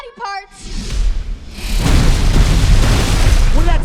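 A loud, booming explosion erupts in a Borderlands movie trailer after a brief shouted line, the deep blast and rolling debris rumble swelling and sustaining to the end.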